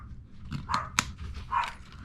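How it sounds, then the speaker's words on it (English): Dogs bark in the background of an indoor craft session, a few separate barks spread over two seconds with one sharper, louder bark in the middle, all somewhat distant. "yep, there goes the dogs again."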